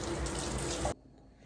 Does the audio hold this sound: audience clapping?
no